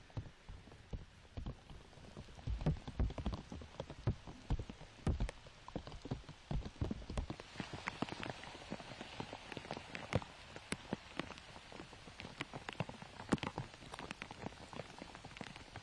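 Rain falls steadily outdoors during a disc golf championship final round, a constant patter of close drops on surfaces and gear, irregular and crackling, heavier in the second half, with no voices.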